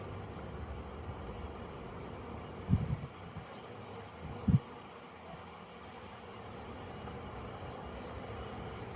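Honeybees buzz at the entrance of a backyard hive on a breezy day, some returning with pollen; a faint, steady hum runs throughout, broken by two brief low thumps.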